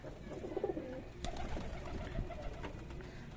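Racing pigeons coo at a pigeon farm beside Chhoto Sona Mosque in Shibganj, soft low murmuring calls repeating close by under quiet background noise, with no talking.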